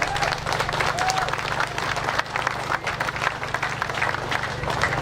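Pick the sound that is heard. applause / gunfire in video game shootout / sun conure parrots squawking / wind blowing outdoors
applause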